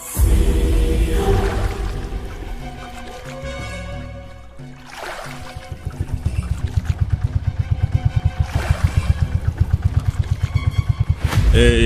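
A boat motor runs steadily on a river as the boat turns, its engine chugging loudly and rhythmically throughout with a brief dip in the middle, without voices.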